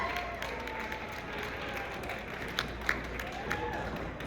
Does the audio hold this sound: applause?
yes